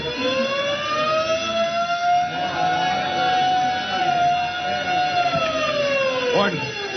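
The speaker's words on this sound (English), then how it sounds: "the shrieking wail of the siren" A prison alarm siren wails, rising and falling in long sustained tones, loud and continuous, with faint background noise beneath it.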